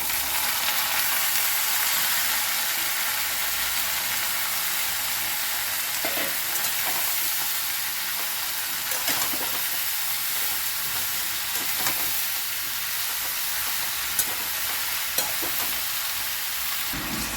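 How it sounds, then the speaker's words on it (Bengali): Bottle gourd stirred and fried with onion in a pan for a fish curry, giving a steady, dense sizzle throughout with occasional soft scrapes and clicks of the spatula. "লাউটা আমি কিছুক্ষণ নাড়াচাড়া করেছি।"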